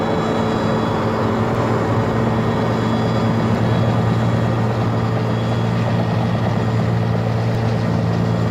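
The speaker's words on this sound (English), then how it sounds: "a fleet of helicopters is employed, bringing in fresh troops, provisions and water" Military transport helicopters ferrying troops and supplies for the South African forces in Angola in 1982 give a steady, loud rotor and engine drone that holds without a break throughout, with no voices.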